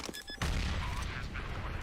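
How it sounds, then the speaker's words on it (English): Counter-Strike match with silenced USP pistol shots, a few quick muffled thacks at the start before a loud rumbling burst of in-game noise and explosion fills the rest. "The sound of the silenced USP"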